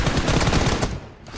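Rapid automatic gunfire in a shooter video game, a quick burst of close, loud shots that cuts off and leaves a brief quiet tail.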